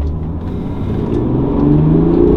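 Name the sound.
BMW E90 330d diesel accelerating in second gear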